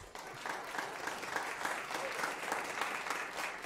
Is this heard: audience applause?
yes